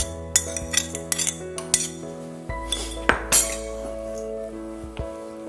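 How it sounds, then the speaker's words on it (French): A fork mashes cooked beans against a dish, giving close, irregular metallic clinks and taps with soft squashing between them, over a steady low hum. "Et on les écrase à la fourchette."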